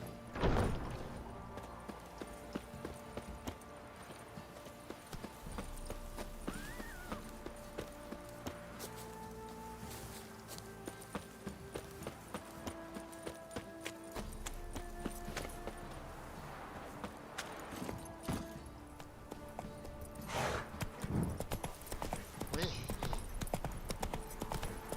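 Roach the horse's hooves clip-clop steadily in The Witcher 3, a regular walking beat under game music and background ambience.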